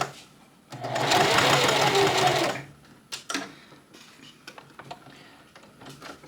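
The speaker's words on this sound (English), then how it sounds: "And then sew down to that point and drop the needle into the machine." A sewing machine stitches bias tape in a short steady whirring burst of under two seconds, then stops, followed by scattered clicks and taps of handling nearby.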